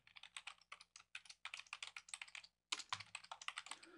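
Rapid keystrokes on a computer keyboard as an ID is typed into an account sign-up form, a close, crisp run of taps with a short pause before another quick burst.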